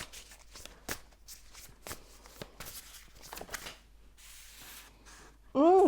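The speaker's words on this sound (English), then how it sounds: "So I'm going to shuffle a little bit more just in case" A tarot deck is shuffled close by in a steady stream of soft papery slides and sharp card snaps for several seconds, then a voice starts talking at the end.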